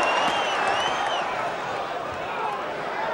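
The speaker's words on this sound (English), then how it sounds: "the crowd really cheered because they thought Margarito had nailed him" A boxing arena crowd at a Margarito versus Williams fight roars in a steady, broad wash of cheering. Commentary runs under the noise throughout.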